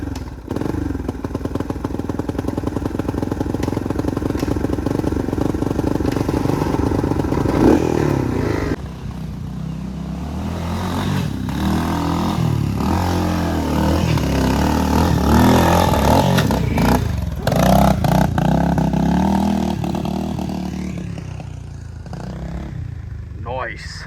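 A 1986 Yamaha BW200 big wheel motorcycle runs loudly and up close, revving and surging while riding through mud, with clattering and scraping and voices talking over the engine.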